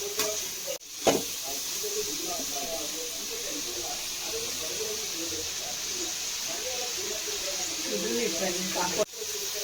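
Fried rice frying in a pan, a steady close hiss and sizzle running throughout with faint clatters, and a couple of brief knocks near the start and end.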